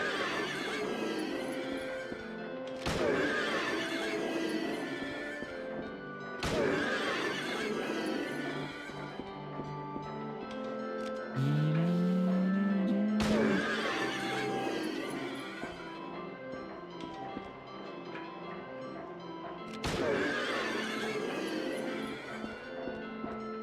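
Horses in the video game Silent Hill 3 neigh and whinny repeatedly, loud, close calls recurring every few seconds over a dense, constant background of game music and noise.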